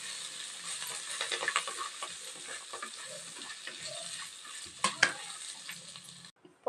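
Curry leaves crackle and sizzle in hot sesame oil in a clay pot, a steady broadband frying hiss with a few sharper pops near the end and no talking.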